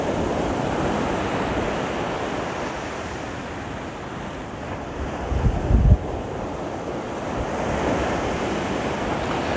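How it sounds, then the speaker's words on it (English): Ocean waves break along the shore at Pacifica in San Francisco, a loud continuous surf wash mixed with wind buffeting the microphone, briefly swelling to a stronger crash midway. "The sounds of the ocean are beautiful. There's just something about those waves."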